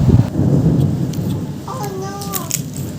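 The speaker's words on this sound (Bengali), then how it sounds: "এত বৃষ্টি হচ্ছে" Heavy rain pours down outdoors, a loud steady wash with low rumbling; a voice briefly speaks over it partway through.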